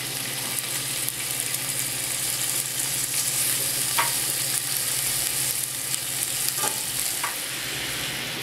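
Salted cubes of chicken fry in olive oil with a steady, dense sizzle, broken by a few sharper crackles and light stirring scrapes, close and continuous without any talk.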